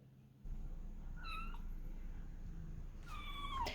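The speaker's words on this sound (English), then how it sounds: "She's a stray kitten who was brought to me by the kids" A stray black kitten gives two thin, high meows, one short in the middle and one longer near the end, over a steady low indoor hum.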